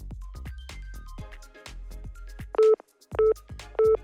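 A telephone keypad is dialed: after a stretch of talking, three short, loud beeping tones sound at an even pace, with near silence between them.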